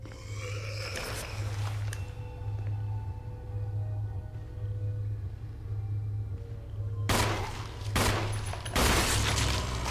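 Gunfire in the video game Resident Evil (2002): a couple of loud, sharp shots early on, then a burst of several rapid blasts near the end over a steady low game drone, with no one speaking.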